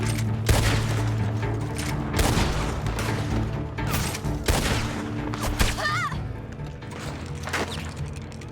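Video game gunfire in heavy, booming bursts and rapid volleys over a dense, loud battle din, with crashing impacts and a brief rising whine near the end.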